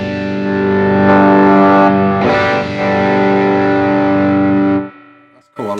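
An electric guitar plays through a Way Huge Doubleland overdrive pedal, giving loud, sustained distorted chords that ring out, break briefly and stop, followed by a short pick noise.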